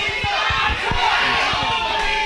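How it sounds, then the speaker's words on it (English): A crowd at a pro wrestling show roars loudly and continuously, with scattered shouts and yells rising out of the dense, steady din. "you can hear the crowd. It is loud and it's rocking in here, man."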